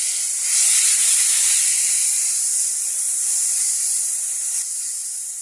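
Spices with chili powder fry in a hot pan, a loud, steady close hiss and sizzle that swells slightly in the first seconds and then holds evenly, with no talking.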